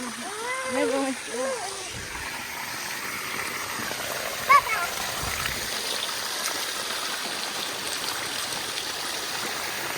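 Water gushes and splashes steadily, a continuous near rushing hiss, while a voice is heard briefly at the start.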